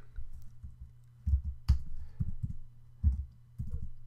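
Light computer keyboard typing, scattered soft key taps in small irregular bursts over a steady low hum, close by.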